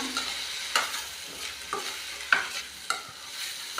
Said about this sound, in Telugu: ఇలా మనం బాగా కారం మిక్స్ అయ్యేలాగా